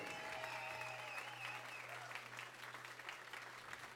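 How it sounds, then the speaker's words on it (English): A concert crowd at a rock show gives a continuous round of applause, heard from a distance with a low steady hum underneath and faint voices mixed in. "I would like to hear a round of applause for everybody at Membrane"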